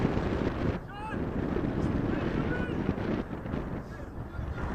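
Strong wind buffets the microphone at an outdoor under-18 Premier League football match in the West Midlands, a constant low roar with faint distant whistles and calls in the background.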